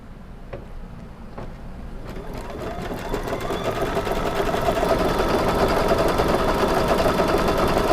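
Embroidery sewing machine stitching to tack down batting on a Halloween cat-block placemat, a rapid steady mechanical whirr of needle strokes that starts quieter and builds to a loud, continuous run.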